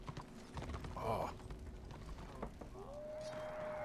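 Horse hooves clip-clop in Warhammer Online: Return of Reckoning, a quiet, steady run of hoofbeats with faint creaks and a brief tonal game effect near the end.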